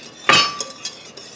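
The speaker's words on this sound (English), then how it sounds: "Go ahead and stir it down again, Damien." A spoon stirring thickening homemade queso in a pot gives one bright metallic clink, followed by a few lighter, fainter taps and scrapes, close and otherwise quiet.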